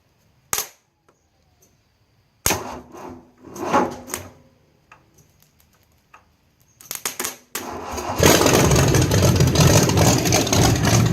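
A Ford 5.0 engine that is low on coolant and maybe out of fuel is tried: several sharp clacks and clunks come first, then a loud, sustained rumble as it cranks and roars.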